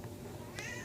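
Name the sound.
cat meowing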